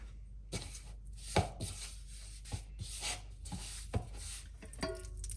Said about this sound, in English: Now I need to cover meat in flour.